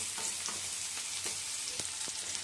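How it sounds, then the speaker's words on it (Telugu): Turmeric and spices stew in oil in a pan, giving a constant close hiss of frying with a few faint ticks and pops scattered through it. "ఇది కొంచెం ఆయిల్లో మగ్గనివ్వాలి"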